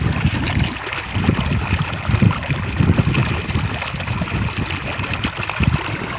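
Water gushing from an electric motor pump on a farm in summer, a steady, loud, close rushing and splashing flow that continues without pause.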